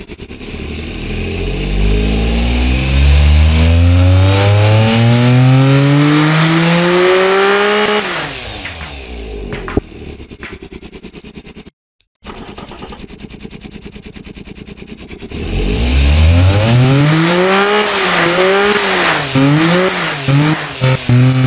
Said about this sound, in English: start the automatic test of this engine right here